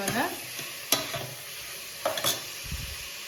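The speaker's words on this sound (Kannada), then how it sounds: "ಹಾಗಾಗಿ ಇದು ಚಂದ ಫ್ರೈ ಆಗಲಿ." Tomato and onion fry in a pan with a soft, constant sizzle, broken by several sharp scraping strokes of a spoon stirring the mixture.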